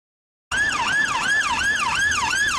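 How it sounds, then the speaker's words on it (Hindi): An ambulance siren wails loud and close, its rising and falling tone cycling steadily after a moment of silence. "देखिए आ गया एम्बुलेंस।"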